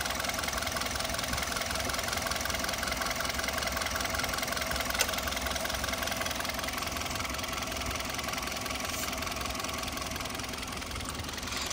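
A Hyundai Verna SX 1.6 petrol engine idles with a steady, even mechanical hum and faint ticking that holds unchanged throughout, with no one talking.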